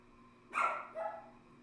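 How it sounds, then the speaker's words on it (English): A dog gives two short barks at moderate distance, a sharp first yap followed by a softer second one, against a quiet background. "Doggy."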